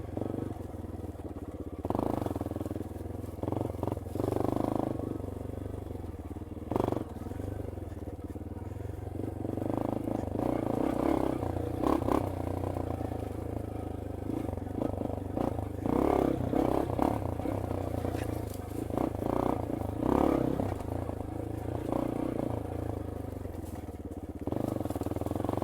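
A Yamaha XT250 motorcycle engine runs steadily along a single track trail, rising and falling with throttle changes, with clatter from the rough ground throughout.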